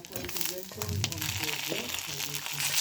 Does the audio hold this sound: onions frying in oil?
yes